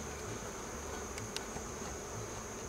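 Honey bees buzz steadily in a dense, continuous drone during a bee barn hive inspection, close up and without talk.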